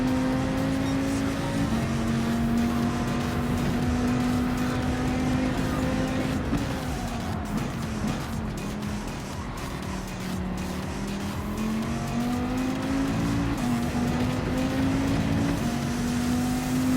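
A race car engine roars steadily in a racing video game at Daytona, its loud sustained drone rising and falling with gear and throttle changes, with hints of tire squeal and no talking.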